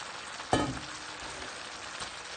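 Vegetables tossed into a hot pan set off a sudden loud sizzle, then a steady frying hiss that holds for about two seconds.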